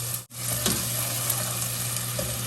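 Red bell pepper, tomato and peas frying in a pan, a steady close sizzle with a brief dip near the start and light stirring scrapes over it.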